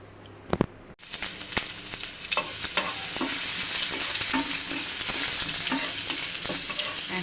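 Turmeric and chili powder sizzling in a hot pan for a stuffed pointed gourd dish, with a steady frying hiss and several sharp scraping stirs after a brief quiet start.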